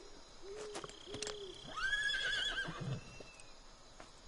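Horse neighing in the PS2 video game Metal Gear Solid 3: Snake Eater, a few short snorting calls followed by a rising, quavering whinny, fairly faint over quiet game ambience with no talk.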